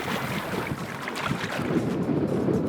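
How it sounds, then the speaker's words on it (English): Wind buffets the microphone while fishing from a boat on a steelhead, trout and salmon river, a continuous broad rushing gust with no voices. "It's a bit breezy, eh?"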